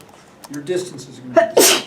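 A single sharp sneeze bursts out near the end, loud and close, right after a voice speaking in a physics classroom setting.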